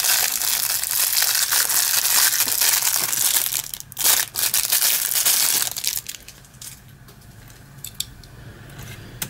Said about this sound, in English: this is the very noisy plastic